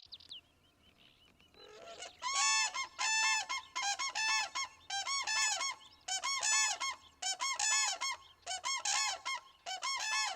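Geese honk repeatedly in northern Iberian wetlands, a steady series of loud, nasal calls in quick bursts standing out over a quiet background.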